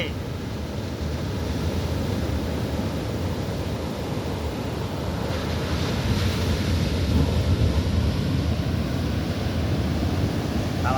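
Sea waves roll in at Sagareshwar beach in Vengurla, Sindhudurg, a continuous low rumbling wash with wind buffeting the microphone and no clear speech.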